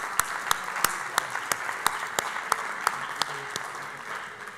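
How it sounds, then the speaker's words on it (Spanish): Audience at a Spanish business conference session gives sparse, scattered claps after a talk, individual sharp hand claps spaced out at a steady pace over faint room murmur rather than a full ovation. "les pediría que un aplauso para Alicia por su contribución hoy a Stenda Global."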